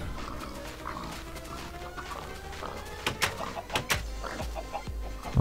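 A Minecraft chicken clucks in short, sharp bursts, several quick clucks clustered in the second half over a low background hum.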